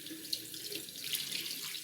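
Cold tap water runs steadily into a sink while a makeup blender sponge is rinsed, a close, continuous splashing stream with no speech.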